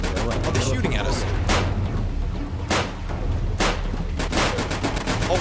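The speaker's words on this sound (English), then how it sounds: "Oh, they're shooting at us." Enemy gunfire in the 35mm video game, rapid broadband shots cracking in bursts over a rumbling low background, with voices talking throughout.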